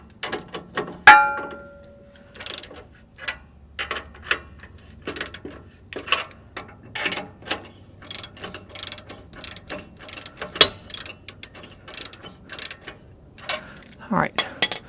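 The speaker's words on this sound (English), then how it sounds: "we're going to take a regular ratchet wrench" A hand ratchet wrench snugs the rear axle U-bolts on a GM OBS Chevy or GMC truck, giving quick runs of sharp metallic clicks in irregular bursts with brief pauses between, close and clear in a quiet shop.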